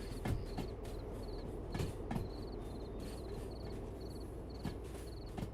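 Freight train cars rolling past in the Derail Valley rail simulation game, a steady rumbling clatter with periodic wheel clacks as the cars go by, close and continuous without any talk.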